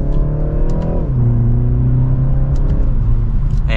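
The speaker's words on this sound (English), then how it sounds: "And a mild acceleration" A 2024 BMW 330i M Sport in sport mode accelerating in second gear, heard from inside as a loud, rising engine drone. Revs drop at a shift near one second, then climb steadily again.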